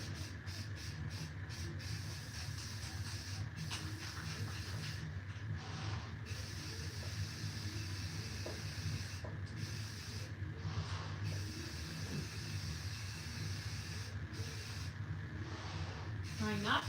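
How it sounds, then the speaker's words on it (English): Spray paint hisses from a can in soft bursts that start and stop, fairly quiet over a steady low background hum. "I'm gonna spray paint through this quick"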